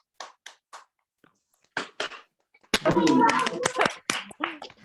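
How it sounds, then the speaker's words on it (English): Participants on a video call applaud through their microphones: a few scattered, thin claps come first, then a fuller, messier burst of clapping mixed with voices and chatter, all slightly compressed and uneven. "if everyone can open up your microphones and join me and just giving a little round of applause"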